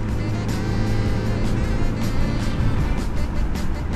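Mercedes Sprinter party vans drag racing, a loud continuous engine roar and road rumble heard from inside, steady under full throttle with no talking.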